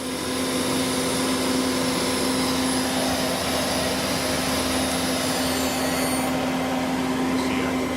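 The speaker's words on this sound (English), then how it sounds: "That's the spindle running at 2000 currently." Spindle of a 2011 Citizen M20V CNC Swiss lathe runs at speed, a steady loud whine with a strong constant tone and broadband machine hiss, a higher pitch shifting slightly near the end.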